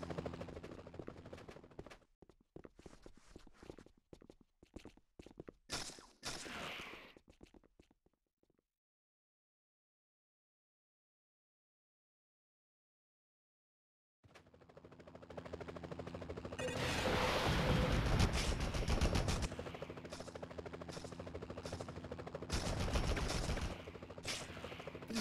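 Gunfire in the Spider-Man 2000 video game, with rapid bursts of shots up close, then a long stretch of silence, then dense, loud volleys of automatic fire.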